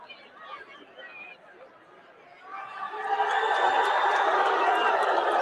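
A wrestling arena crowd reacts to Nick Bockwinkel at the 1984 Christmas Clash match. Scattered murmuring swells after a couple of seconds into a loud, sustained roar of many voices.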